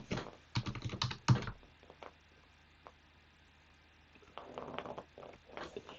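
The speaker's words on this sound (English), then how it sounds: "actually I'll just type in treasury." Someone types on a computer keyboard in quick clustered bursts of close key clicks, pausing for a few seconds with only scattered single taps before resuming.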